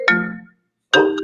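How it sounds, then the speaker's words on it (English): A mobile phone ringtone goes off during a motorcycle tour company's livestream, two loud bursts of a tonal ringing melody with a short silent gap between them, no talk over it. "that's Kurt's phone?"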